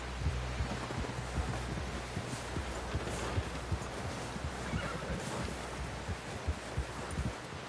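Hooves clip-clop steadily under a muffled ambient bed, with a horse whinnying faintly in the mix, in the video game Red Dead Redemption 2.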